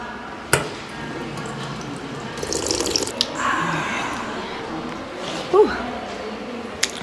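Water runs from a tap inside the KBS broadcasting building, a steady splashing stream with a sharp knock near the start, brief clatter midway and a short squeak late on, with faint background voices.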